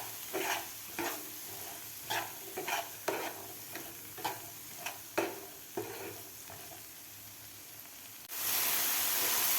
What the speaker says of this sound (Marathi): तीन ते 4 मिनिट मी हे मटार व्यवस्थित परतून घेतलेले आहेत